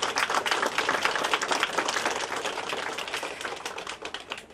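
Dense, sustained applause from an audience at a folk festival of storytellers, poets and folk singers in Zwoleń, a fast, even patter of many hands that carries on without a break and tapers slightly toward the end.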